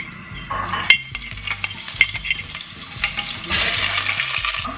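Cardamom, bay leaf, ginger and garlic frying in a pan for an Indian paneer curry, a steady sizzle with stirring scrapes, rising into louder hissing toward the end.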